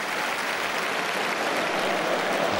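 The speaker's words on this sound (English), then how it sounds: "An appreciative round of applause from the Canaries faithful." Steady applause from a large football crowd of Norwich City supporters fills the air, a dense wash of clapping that holds at an even level throughout.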